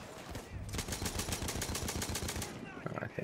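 Rapid gunfire from many players in Battlefield 1, a dense burst of fast automatic shots in quick succession lasting about two seconds, fairly faint and distant, with scattered shots after.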